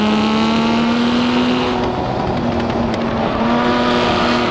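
A Lamborghini Miura P400SV engine in Assetto Corsa holds a loud, steady high-revving drone, pitch nearly constant with brief dips as it shifts, heard close and alone without talk.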